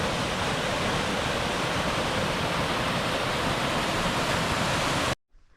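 Vegas Brook rushes through the Maine wilderness near Gulf Hagas, a dense, steady roar of flowing water heard close and loud, cutting off abruptly near the end.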